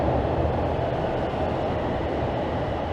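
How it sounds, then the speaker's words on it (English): Subway train pulling into Pioneer Village station in Toronto, heading southbound: a steady, loud broadband rumble of rolling cars that fills the whole moment with no clear wheel clicks or squeals. "Here comes the southbound train."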